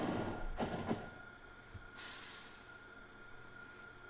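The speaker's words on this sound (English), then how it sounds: "And the trains will start stacking up." Trains in the video game Factorio rolling and stacking up on a rail network: a short burst of hissing and clattering rail noise early on, then a softer hiss with a faint steady hum behind it.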